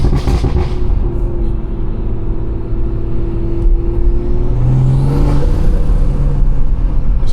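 A BMW's engine intake roars close and steady while accelerating on the road, with a brief rising surge of revs partway through and no talking.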